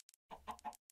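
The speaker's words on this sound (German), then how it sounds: "So, ich lasse die Hühner jetzt alle raus." Chickens in the video game Minecraft, let out of their coop, give a few short, close clucks in quick succession, preceded by tiny clicking blips in an otherwise silent background.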